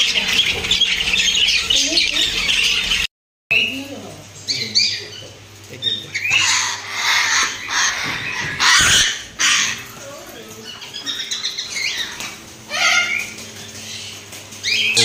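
Birds at a busy Friday bird market in Dubai squawk in loud, harsh bursts close by, with shrill calls rising and falling among scattered voices and market bustle.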